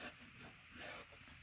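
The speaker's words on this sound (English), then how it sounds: "So now I'm just going to burnish this down." Burnishing stamped paper flat on a papercraft magazine page: a soft, steady rubbing and hissing scrape that swells and fades in gentle strokes, faint and close, with no voices.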